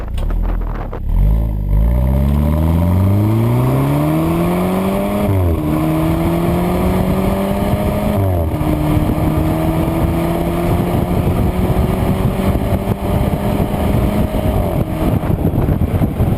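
A Mercedes-Benz SLK 200 BlueEFFICIENCY sports car engine revs up through rising gears, then holds a loud, steady high-speed drone with road and wind noise throughout.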